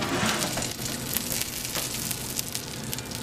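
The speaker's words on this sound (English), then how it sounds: "Listen to that sizzle." Homemade pizza topped with cheese and salami, fresh from the oven, sizzles and pops with a steady close crackle, no voices over it.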